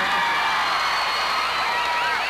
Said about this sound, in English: I want to give you a chance to applaud yourselves for what you guys did tonight